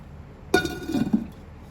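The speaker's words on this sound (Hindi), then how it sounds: "अभी हम इसको लगा देंगे ढक्कन" A lid is set onto a chicken handi cooking pot, giving a single sharp metallic clink followed by a brief rattle as it settles, close and alone.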